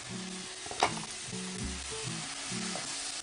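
Onions and tomatoes frying in a pan for lentil dal, a steady close sizzle with soft stirring scrapes and one brief clatter near the start.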